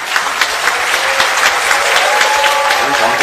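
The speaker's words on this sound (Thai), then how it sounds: "ปรบมือเขาหน่อยสิ" Audience applause at a public event in Phuket, a steady, fairly loud burst of many hands clapping together, filling the short stretch with a dense patter.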